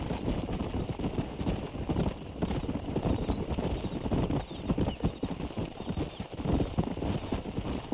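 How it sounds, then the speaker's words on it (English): Horse hooves clip-clopping across the ground while herding livestock in Red Dead Redemption, a continuous busy patter of many hoof strikes, close and fairly loud, with a faint whinny. "Trying to guide a herd on a horse or something."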